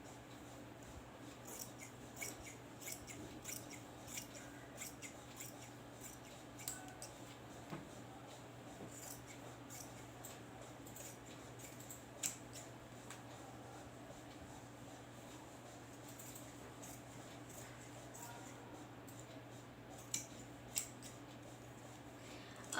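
Scissors snip through kurta fabric in quiet, repeated cuts, irregular soft clicks and rustles close by over a faint steady hum.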